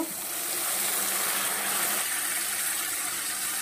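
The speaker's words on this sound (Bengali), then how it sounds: "এই পর্যায়ে আমি সামান্য একটু জল অ্যাড করব" A little water is poured into a pan of fried onions and tomatoes, producing a dense, even hissing rush that holds steady for a few seconds, with no talk.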